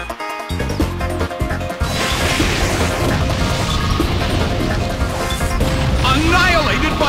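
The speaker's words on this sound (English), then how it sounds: "Annihilated by explosion!" An explosion attack in the Pokémon Battle Revolution video game hits with a loud, dense crash layered over busy battle music and effects, holding at full strength for several seconds.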